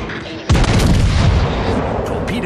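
Warship guns fire in World of Warships, a sudden loud, close boom hitting about half a second in and followed by a long rumbling roar that slowly fades.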